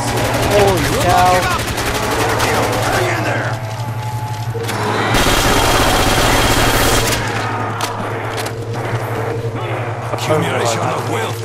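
Rapid bursts of automatic gunfire from Call of Duty zombies on the Der Riese map, loud and dense, with a sustained fusillade in the middle while voices talk over the shooting.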